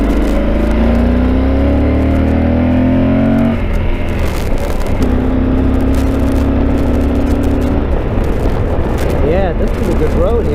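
Yamaha Super Tenere motorcycle engine revving up loudly through rising harmonic sweeps, with repeated gear changes on a country road and heavy wind buffeting throughout.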